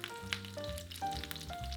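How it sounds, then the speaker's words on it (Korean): Pork belly browning in a frying pan over medium-high heat gives a steady sizzle and crackle, with tonal background music running throughout. "제거한 삼겹살을 후라이팬에 넣고 중강불로 노릇하게 굽습니다."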